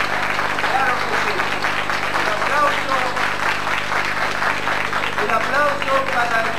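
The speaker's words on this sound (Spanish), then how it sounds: "le voy a pedir un aplauso, pero muy fuerte, para todos ustedes que están hoy aquí presentes" Audience applause at a school poetry contest, a steady dense wash of clapping throughout with a voice or two and chatter mixed in over a low steady hum.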